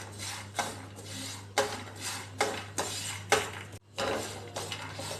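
Peanut masala with oil is stirred in a metal pan for kacchi dabeli. A spoon scrapes in about eight rhythmic strokes, close and clear over a steady low hum, with no talking.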